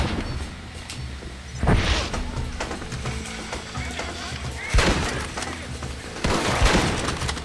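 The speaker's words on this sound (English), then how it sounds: "I'm gonna shoot him in the leg." Rapid gunfire bursts ring out in a Red Dead Redemption shootout with Captain De Santa, several loud volleys over rumbling hoofbeats and someone talking throughout.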